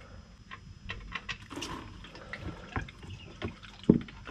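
Diesel engine oil drains from an aluminium sump on a Mitsubishi Triton 2.4 turbo diesel (4N15) during an oil change. Faint irregular trickling and dripping play with scattered small splashes and a sharper knock near the end.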